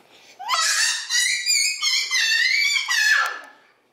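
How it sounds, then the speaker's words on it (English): A young boy screams in a long, loud, high-pitched stretch broken into a few bursts, close to the listener, with no other sound around it. "Are you screaming?"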